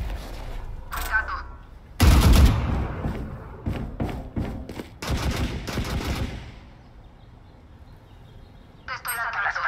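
Gunfire in a Valorant match: a loud burst of shots followed by several sharp cracks and thuds in quick succession, mixed with game effects and some speech.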